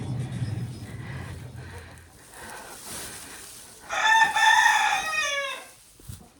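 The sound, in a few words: chickens clucking and rooster crowing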